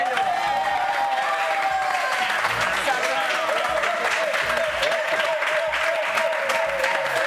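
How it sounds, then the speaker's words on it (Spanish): A crowd applauds steadily and loudly throughout, a dense wash of clapping with some cheering mixed in. "Un aplauso para ellos."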